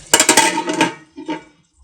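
Metal lid set onto a frying pan of amaranth leaves on a high flame: a close cluster of clattering, clinking knocks, then a softer second clink, with no talk.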